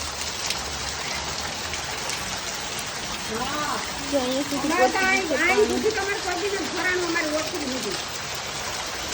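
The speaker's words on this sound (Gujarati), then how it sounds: "મારે ઘરમાં બહુ જ વરસાદ આવ્યો" Heavy rain pours down around a house in a steady, dense hiss that persists throughout, while a voice talks briefly in the middle beneath the downpour.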